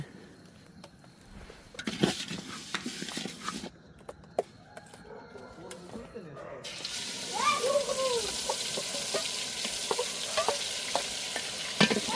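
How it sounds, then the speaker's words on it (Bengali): Raw rice being dry-fried and stirred in a home kitchen pan, with scraping stirring strokes that give way to a steady, bright sizzle for the second half; faint voices sound in the background. "এবারে আমাদের চাল ভাজার কার্যক্রম শুরু হয়েছে"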